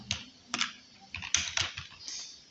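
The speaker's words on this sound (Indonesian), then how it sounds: "Karena ini hasil dari eksperimen, maka harus kita ketik secara manual." Several quick keystrokes on a computer keyboard while numbers are entered for a NumPy coding lesson, crisp close clicks in short uneven bursts with quiet gaps between them.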